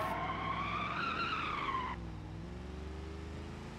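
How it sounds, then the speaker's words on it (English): A car skids around a car park, its tyres giving a loud rising squeal over the engine that cuts off abruptly at about two seconds, leaving a steady engine hum with no speech. "He's crashing around the car park for some reason."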